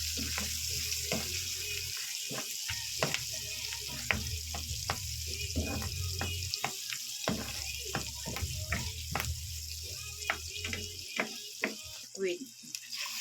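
Squid fries in a pan with chili, giving a steady close sizzle broken by repeated scraping stirs and clacks of a utensil. A low hum switches on and off, and voices are briefly heard.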